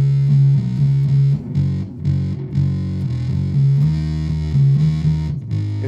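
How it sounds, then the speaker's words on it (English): Bass guitar played through a BB Plus distortion pedal, a thick, loud, gritty riff of sustained low notes with rhythmic phrasing, heard alone without talk. "The BB Plus for distortion works really well."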